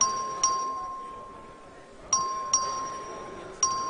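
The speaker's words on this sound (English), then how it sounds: "The clerk will ring the bell." Legislative voting bell rung by the clerk in a state house chamber, four or five clear, ringing dings with sharp onsets and slow decay, irregularly spaced over quiet room noise.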